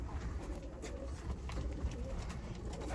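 Black Polish feather-footed pigeons in a loft, a soft low cooing murmur running steadily under a busy, noisy background, with no voices.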